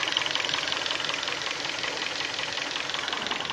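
A 2012 Korean-market Hyundai Sonata with 126,800 on the clock idles on gas with an engine knock, a close, steady, rapid metallic clatter running continuously over the engine's hum.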